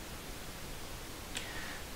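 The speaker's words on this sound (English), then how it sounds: "So that's just our raw pink noise." Raw pink noise from a synthesizer hisses as a steady, even broadband wash at moderate level, with a brief faint high tone flickering near the end.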